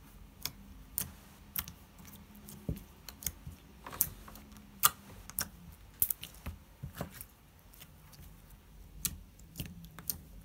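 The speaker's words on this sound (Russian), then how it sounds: "Вы просто послушайте, как он кликает." Clear slime being stretched and squeezed by hand, giving a string of sharp, crisp clicks and small pops in an irregular rhythm, close up and fairly quiet, with no talking.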